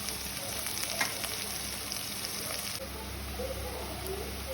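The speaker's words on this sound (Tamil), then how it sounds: "உங்களுக்கு வந்து கருவேப்பிலை வெங்காயம் வந்து ஓரளவு வளர்ந்து கொண்டு வரதுக்குள்ள நாங்கள் செத்தல் மிளகாயும் போட்டுக்கொள்ளுவோம்." Onions, curry leaves and dried chillies fry in a pan for a chickpea sundal breakfast, a steady close sizzle that runs continuously with a faint crackle and no talking.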